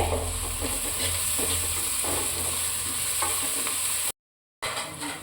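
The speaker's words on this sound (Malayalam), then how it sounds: "നല്ലതുപോലെ ഇളക്കി കൊടുക്കാം സവോളയൊക്കെ പെട്ടെന്ന് വഴന്നു വരാനായിട്ട്" Onions stir-frying in a pan for a Kerala fish curry, a steady loud sizzle with repeated scraping stirs throughout, briefly cut out near the end.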